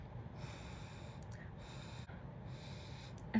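Three quiet, drawn-out sniffs as a person smells a cosmetic product up close, each inhalation lasting about half a second, softly spaced with brief pauses and no talking.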